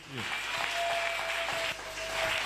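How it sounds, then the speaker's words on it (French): A church congregation claps for Jesus in a quick burst of applause, loud and crowded, with a voice speaking over the clapping. "People of God, clap for Jesus."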